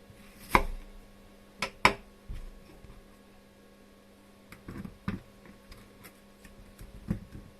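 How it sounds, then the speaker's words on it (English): A knife chops an onion into large pieces on a cutting board, giving scattered sharp knocks, some in quick pairs, close and fairly quiet with pauses between cuts. "Cut the onion in half, then cut into large pieces."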